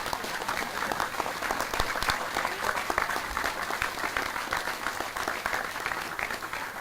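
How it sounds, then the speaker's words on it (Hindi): A seated audience at a youth talk breaks into sustained applause, dense overlapping claps holding steady for several seconds with a faint voice underneath. "अपने लिए ताली बजाओ"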